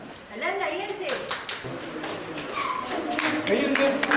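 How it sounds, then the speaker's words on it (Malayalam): An audience claps at a prize-giving, a scattered patter of hand claps mixed with overlapping voices and a child's chatter throughout. "ഓക്കെ എല്ലാവരും കൈയടിച്ചു തന്ന്"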